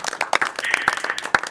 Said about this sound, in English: the folks in here in New York City will give you a nice round of applause